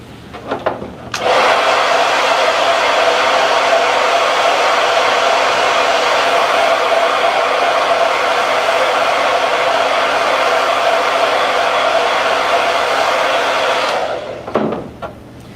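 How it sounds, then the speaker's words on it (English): A hair dryer blows steadily for about thirteen seconds, switching on abruptly and cutting off at the end, loud and close. "I'm going to dry this with our hair dryer again"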